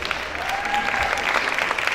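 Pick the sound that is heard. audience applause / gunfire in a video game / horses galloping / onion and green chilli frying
audience applause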